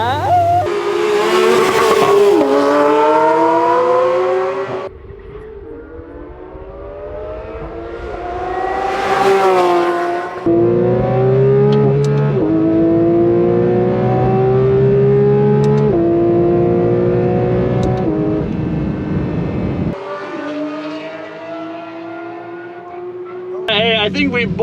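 A Pagani Huayra and a Koenigsegg Agera hypercar race side by side. Loud, close engine roar climbs steadily through the gears with abrupt shift breaks and a brief tire squeal near the start.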